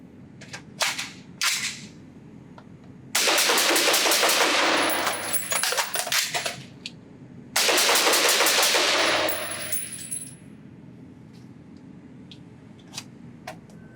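Rapid gunfire from a Noveske 6.5 Creedmoor SBR rifle at a range, two long strings of very fast sharp shots separated by a pause for a magazine change, with scattered single clicks and handling noises around them.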